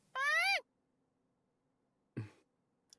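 A Cramorant, the dopey Pokémon bird, gives a short rising-and-falling squawk in a video game, alone and clear, followed by a brief hoarse coughing sound.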